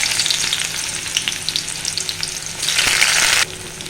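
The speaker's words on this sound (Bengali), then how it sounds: "এই পর্যায়ে আমি পেঁয়াজ কুচি দিয়ে দিচ্ছি।" Chopped onion drops into hot oil and fries with a loud, crackling sizzle that swells near the end before settling to a softer hiss.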